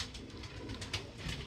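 Pigeons on a Karachi rooftop coo softly in a brief, muffled series of low throaty pulses, faint against a steady background hiss.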